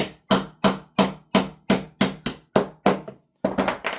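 Metal snips used as a makeshift hammer to tap a pin punch during a teardown of a Double Eagle airsoft gun, about eleven sharp, close metallic knocks in a steady rhythm with one brief pause before the last strikes.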